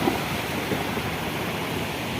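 Steady broadband rush of a waterfall pouring down beside the mountain road near Mana village, continuous and fairly close, with no voices.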